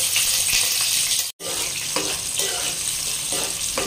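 Sliced onion fries in hot oil in a pan for fish curry, a dense, steady sizzle with small crackles that runs continuously, broken by one brief cut to silence.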